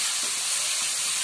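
Garlic cloves fry in a wok with a brief, steady close hiss of sizzling oil, uniform and unbroken, with no voices.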